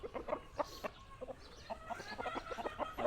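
Burmese fighting rooster on a game fowl farm, giving a rapid series of short clucks and chirpy calls at close range, fairly faint, with no talk.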